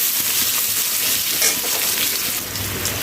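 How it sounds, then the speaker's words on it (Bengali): Potato pieces seasoned with salt and a little turmeric fry lightly in a pan, giving a steady, close hiss and sizzle with faint stirring and no talking. "হালকাভাবে ভেজে নিচ্ছি"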